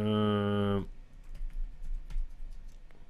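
A steady electronic tone stops abruptly, followed by light, irregular tapping on a computer keyboard close by.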